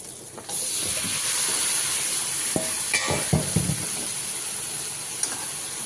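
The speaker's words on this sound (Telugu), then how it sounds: "అలాగే నేను ఉడకబెట్టుకుని తీసుకున్న మాంసం కూడా దీంట్లో వేస్తున్నప్పుడు చూడండి." Boiled goat meat drops into a pan of frying turmeric spices, setting off a loud, sustained sizzle. A few stirring scrapes and clatters follow, with no talking.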